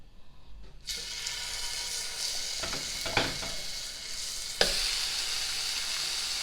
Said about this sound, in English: So they're not going to be totally cooked, we're just searing them.